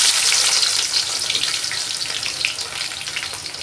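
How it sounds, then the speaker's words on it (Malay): Onions frying in hot oil to make crispy fried shallots for a Malaysian mamak-style squid dish, a loud, steady dense sizzle with bubbling crackle throughout and no talking. "minyak dah panas, kita goreng bawang dulu ya untuk buat bawang goreng"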